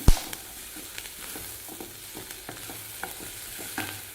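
Tempering with small onions sizzling in a pan for white sorghum kuzhi paniyaram, a soft continuous fry with scattered spoon scrapes and taps as it is stirred, close and fairly quiet.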